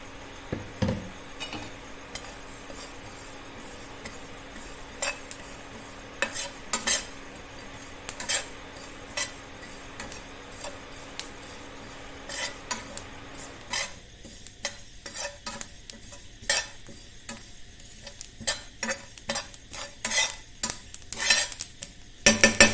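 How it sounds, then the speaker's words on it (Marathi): Sesame seeds dry-roasting in a pan after grated coconut, stirred with a metal spoon that scrapes and clinks repeatedly over a soft crackle and faint background hum. "आता खोबरं भाजून घेतल्यानंतर आपण हे इथं तीळ भाजून घेऊया"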